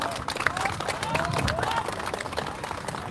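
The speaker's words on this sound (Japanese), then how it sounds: "大きな拍手でお迎えください。" A street-speech crowd at Koriyama Station West Exit applauding in the rain for a former prime minister, dense clapping and murmur throughout the short stretch.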